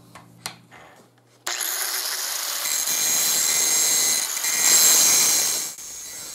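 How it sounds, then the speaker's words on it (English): A grinding wheel grinds a steel knife blade with a loud, continuous hiss and whine after a few faint knocks, rising and falling slightly as the blade is worked. "You want to let the grinding wheel do the grinding."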